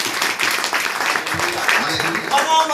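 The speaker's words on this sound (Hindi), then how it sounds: "जोरदार प्रभु के लिए प्रभु के जोर से तालियां।" Congregation clapping loudly in a church service, busy applause mixed with voices and shouting throughout.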